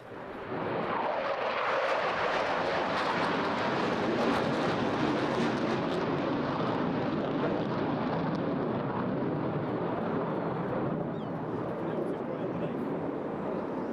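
A Eurofighter Typhoon jet sweeps past at high speed during an airshow display at Eastbourne, a loud, sustained broadband roar lasting the whole pass, with a crowd-filled outdoor ambience and some voice mixed in.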